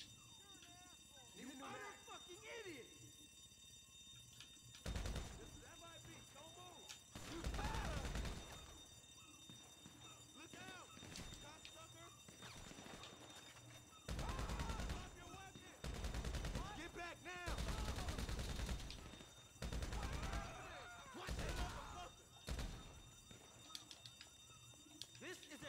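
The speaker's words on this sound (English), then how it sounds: "They start shooting at me." Gunfire in GTA 5 Online, with repeated bursts of shots scattered across the clip over constant game sound and music, while a player talks throughout.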